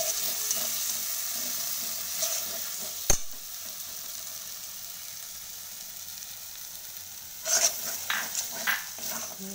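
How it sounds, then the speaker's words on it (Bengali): Crushed whole garam masala paste hits a hot pan for a paneer curry, giving a soft, steady sizzle with one sharp clack partway through and a few louder scraping stirs near the end. "মশলা থেকে এবার এই পেস্টটা আমি দিয়ে দেব"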